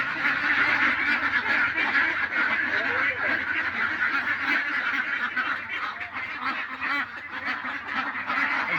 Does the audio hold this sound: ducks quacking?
yes